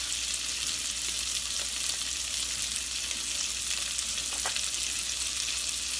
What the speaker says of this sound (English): put some shallots in the vegetables, put them in there, and let them cook in the fat